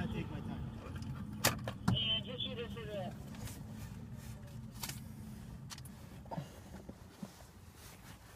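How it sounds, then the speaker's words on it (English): A car is switched off and put in park during a police traffic stop. Keys jangle briefly, followed by soft clicks and thumps over a low idle that fades, recorded close inside the vehicle while a person talks. "I'll turn off the car and put it in park."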